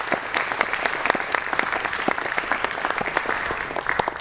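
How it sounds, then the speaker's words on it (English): A crowd claps steadily and enthusiastically in Texas for Chris Kyle Day, a dense patter of applause that holds at an even level throughout. "Can we give a round of applause for that?"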